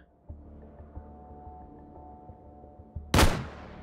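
A single sharp, loud rifle shot from a PSG-1 in the VR game Hot Dogs, Horseshoes & Hand Grenades, a headshot, cracking out near the end after a quiet stretch of faint handling clicks and low hum.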